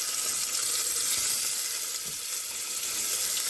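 Chicken thigh pieces sizzle in hot oil in an Instant Pot, a steady, hissing fry that holds evenly throughout without talking.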